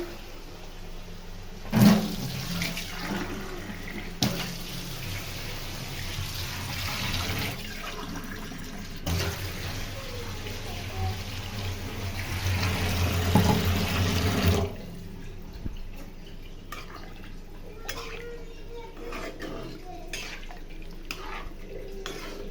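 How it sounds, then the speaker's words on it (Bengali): Water pouring into a tomato fish curry in a pan, a steady splashing stream for about fifteen seconds that then stops, leaving quieter clinks and faint drips, close with no talk. "এখন জল দিয়ে দিই তরকারিতে"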